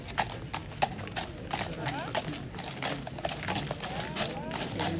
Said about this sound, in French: Les chevaux cob, aussi des chevaux de trait,